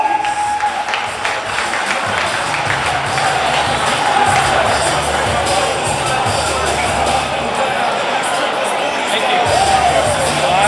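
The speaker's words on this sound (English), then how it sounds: "Let's give a round of applause for our champion" A banquet crowd at a speedway awards night in a stockyards hall applauds and cheers for a racing champion, loud, sustained clapping with whoops and a babble of voices running throughout.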